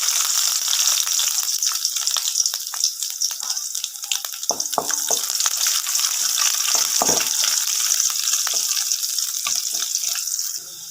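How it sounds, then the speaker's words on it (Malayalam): Mustard seeds and chopped garlic sizzle and crackle in hot oil, a steady loud frying hiss with scattered sharp pops throughout, no voices. "എണ്ണ നല്ലതുപോലെ ഒന്ന് ചൂടായി വന്നിട്ടുണ്ട്. അതിലേക്ക് കുറച്ച് കടുക് ഇട്ട് കൊടുക്കാം."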